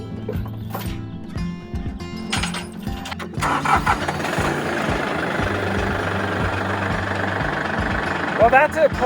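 A tractor engine on an off-grid property cranks over with sputtering bursts, then catches and settles into a steady, fairly close idle that runs to the end, with a brief voice near the finish.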